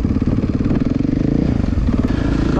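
A 2014 KTM EXC 450 motorcycle engine runs steadily up close, a loud, continuous chugging drone with a fast regular pulse and a slight rise in pitch partway through, no voices.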